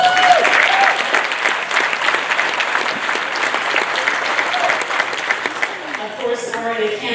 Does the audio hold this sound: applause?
yes